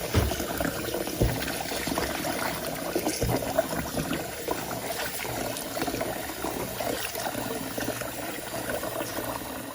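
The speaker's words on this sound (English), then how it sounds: "The rice has been washed well," Rice being washed in plain cold water for dosa and idli batter, with a steady soft swishing and trickling of water throughout, close and moderately quiet with no talking.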